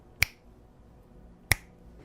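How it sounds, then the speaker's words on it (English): Two crisp finger snaps ring out a little over a second apart, sharp and close, with only faint background between them. "seems like you could just kill him by the time I snap my fingers"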